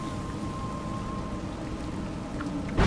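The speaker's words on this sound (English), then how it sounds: "You seem surprised that rain comes from the heavens." Rain falls steadily in the video game A Juggler's Tale, a soft continuous patter under a faint ambient tone, with a brief louder burst at the very end and no speech.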